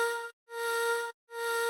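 A sampled note plays in Ableton Simpler with no loop, sounding as three short, identical buzzy tones, each about three-quarters of a second and separated by brief silences, moderately loud with a bright harmonic edge.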